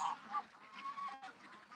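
Pekin ducks crowded together in a pen around a bathtub stream give repeated honking quacks, moderately loud and steady, with several birds calling over one another.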